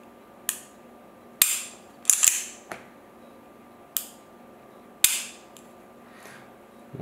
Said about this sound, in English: Here's the reset. Hear the click.